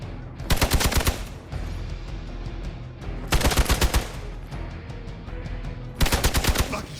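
Three loud bursts of rapid automatic gunfire in Marvel's Midnight Suns, each lasting about a second and spaced evenly over a low, rumbling battle background.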